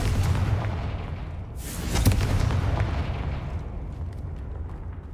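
The Confringo blasting spell in the video game Hogwarts Legacy sets off a loud, close explosive boom with a sharp crack at its peak, followed by a rumbling, gradually fading tail.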